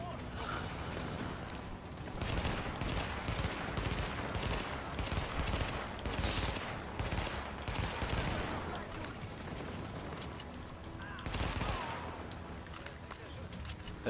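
Repeated bursts of gunfire in the video game The Division, rapid volleys and single shots scattered throughout, with voices talking at times.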